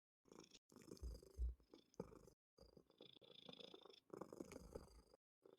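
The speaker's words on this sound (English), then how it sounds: "Sona's letting us hear her cat purr" A pet cat purring close up, a soft, low rumbling hum in steady breathing cycles that pause briefly between breaths, heard quietly and on its own.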